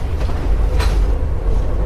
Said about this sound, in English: the clacking of the linkage between cars,